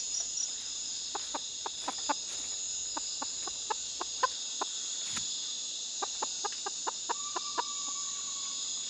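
Short, sharp clucks from chickens repeat irregularly over a steady high insect-like drone, fairly close, with no one speaking.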